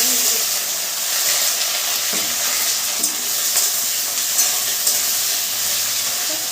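Marinated cashew chicken fries in plenty of oil, giving a steady, loud bubbling sizzle with a few faint stirring clicks and no talk.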